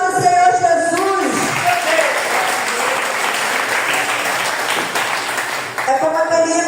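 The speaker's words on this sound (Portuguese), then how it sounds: "Então, aplaude o Senhor Jesus" A church congregation breaks into sustained applause for several seconds, a dense wash of clapping that fades as a preacher's voice returns at the start and end.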